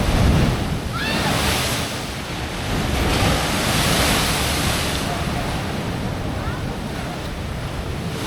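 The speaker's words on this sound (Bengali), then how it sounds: "এই যে সমুদ্রের যে গর্জন" Ocean waves roar steadily at Ao Nang beach in Thailand, a loud continuous surf wash with gusty wind noise on the microphone and swelling surges throughout.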